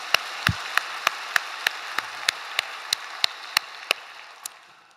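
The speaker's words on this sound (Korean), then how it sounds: "우리 하나님께 우리 영광의 박수 올려드립시다." A church congregation at a dawn worship service claps in slow, even unison, about a dozen sharp beats spaced evenly over a soft background wash before the rhythm trails off.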